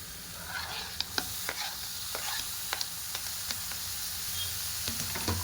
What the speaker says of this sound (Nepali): अब चाहिँ मजाले मिक्स गर्दै छु म